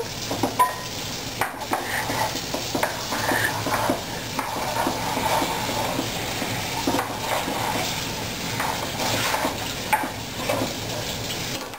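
A spoon stirs etouffee in a pot over a sizzling fry, scraping and clinking in a steady, irregular rhythm close by, with no talking.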